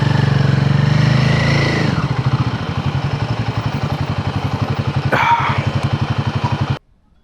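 A motorcycle engine idles loudly up close while the bike is being parked, a steady rapid chugging that revs briefly before being cut off abruptly.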